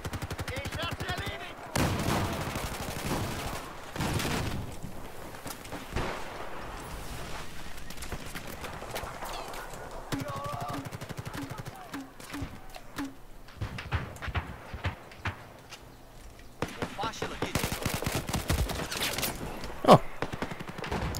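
Bursts of rapid gunfire and single shots crackle amid steady game noise in Battlefield 4, with rattling volleys recurring throughout.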